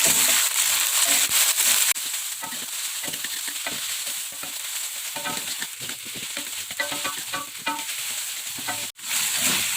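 Cardamom, star anise and kaffir lime leaves sizzle in hot oil as they are sautéed for a yellow gulai of jackfruit and chicken feet. A loud, steady hiss runs throughout, broken by scraping stirs and clinks of the utensil against the pan.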